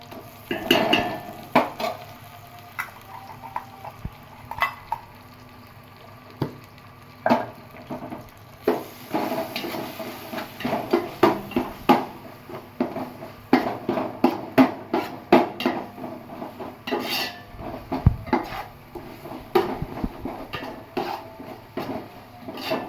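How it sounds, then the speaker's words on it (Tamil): Ginger garlic paste sautéed in a pan for Chettinad chicken biryani, a faint sizzle under repeated scraping and clanking of a spatula against the metal pan, irregular and growing busier, close and without talk. "இஞ்சி பூண்டு வந்து இந்த பச்சை வாசனை போகிற அளவு வரைக்கும் நல்லா வதக்கி விட்டுட்டு"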